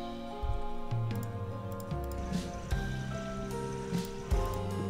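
Running water in Tiny Room Stories, faint trickling and dripping under sustained musical tones, with a few soft splashy bursts spread across the stretch.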